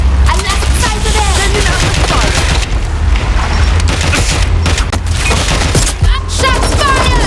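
Gunfire in the Watch Dogs Legion video game: a dense, sustained firefight of rapid overlapping shots and booms lasting throughout, loud and close, with voices shouting in the background.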